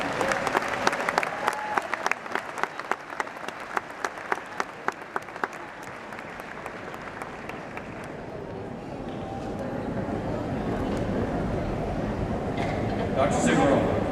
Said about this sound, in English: Would you join me in a round of applause?